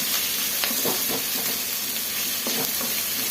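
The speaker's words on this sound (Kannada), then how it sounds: "ಈರುಳ್ಳಿ ಬೆಳ್ಳುಳ್ಳಿ ಒಣಮೆಣಸಿನ್ಕಾಯಿ ಸಾಸಿವೆ ಕರ್ಬೇವಿನ ಸೊಪ್ಪು ಎಲ್ಲ ಹಾಕಿ ಈ ಥರ ಫ್ರೈ ಮಾಡ್ಕೊಬೇಕು" Onion, garlic, dried chillies, mustard seeds and curry leaves frying in hot oil for a Karnataka soppu bassaru and palya: a steady close sizzle with faint crackles and spatters, no voices.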